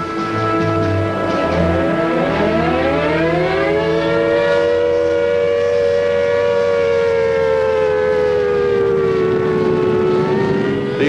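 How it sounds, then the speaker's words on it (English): An air raid civil defense siren wails in wartime Malta, a loud, sustained tone sliding upward then holding a long steady pitch that slowly sags, with a low background rumble. "Everyone waiting for the sirens to start up and then dash off for the shelters."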